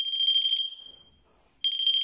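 A mobile phone rings with a shrill, pulsing electronic tone that sounds close and loud. One burst fades out, a short near-silent gap follows, and then the ringing starts again abruptly.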